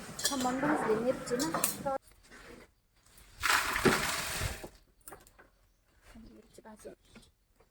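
Red chillies roasting in a pan for homemade chilli powder, with clattering scrapes and metallic clinks as they are stirred, in bursts separated by quieter gaps; someone talks over the first part.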